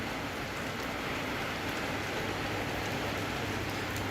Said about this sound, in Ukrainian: Дощ іде, а ми сушимо.